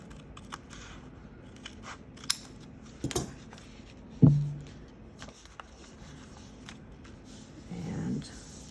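Quiet snips of scissors trimming paper for a journal gatefold pocket come now and then, mixed with light rustling of paper and a slightly louder clack partway through.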